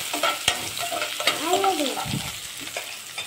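Onions frying in oil in a kadai, with a steady close sizzle, a few sharp clinks and scrapes of a stirring spoon against the pan.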